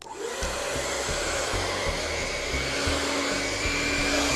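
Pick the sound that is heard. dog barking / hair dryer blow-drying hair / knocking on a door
hair dryer blow-drying hair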